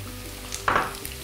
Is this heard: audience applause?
no